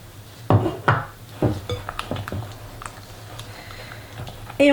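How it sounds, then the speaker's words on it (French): Utensils clink and scrape against a bowl while homemade praline is stirred into a cream, a series of sharp irregular taps and knocks, close and fairly loud, with no talking. "Et on mélange pour obtenir une jolie crème"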